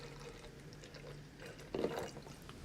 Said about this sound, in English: So if I pour a lot more water into it,